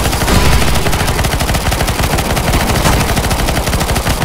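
Loud, continuous automatic gunfire from Counter-Strike: Global Offensive, a dense unbroken barrage of rapid shots filling the whole stretch with no talk over it.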